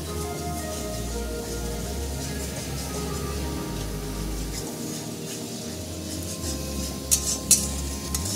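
Spice paste with cumin, coriander and turmeric powders being sautéed in a pan for an egg curry, quiet stirring and faint sizzling with a couple of sharp utensil clinks near the end.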